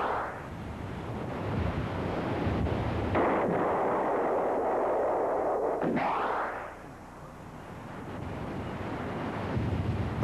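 A missile striking a tank carrying ordnance, a loud sustained roaring blast that rumbles for several seconds, surges again midway, then fades into a windy rumble.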